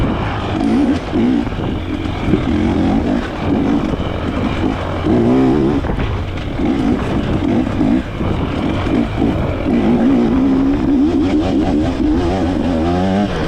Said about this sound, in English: Just me and this beautiful KTM floating through the forest.